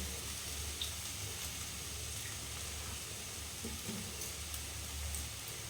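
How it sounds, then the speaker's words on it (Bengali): Water is added to a spice paste frying in a pan for Bengali chicken kosha, giving a steady, even sizzling hiss that runs without a break and with no voices. "একটু জল দেবো"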